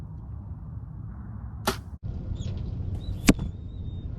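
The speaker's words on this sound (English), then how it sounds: "You can definitely hear those blades cutting through the air." A bow releases a broadhead-tipped arrow with two sharp snaps about a second and a half apart, each a brief loud burst over faint outdoor background noise and a thin distant whistle.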